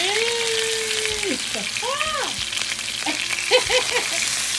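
Lamb chops sear in well-browned oil with a loud, steady sizzle and crackling spatter close by, while a few brief whooping tonal sweeps rise over the frying.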